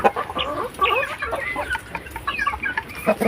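Pet backyard chickens cluck and squawk at feeding time, a steady stream of overlapping close calls with rooster-like fowl voices and no talk.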